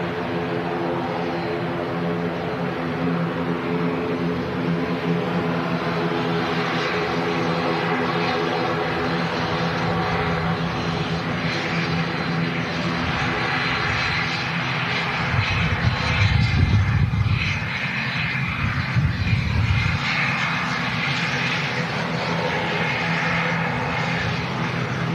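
A Loganair airliner arriving from the Isle of Man roars steadily and loudly for the whole stretch, engine noise swelling with a deeper rumble partway through, with no talk.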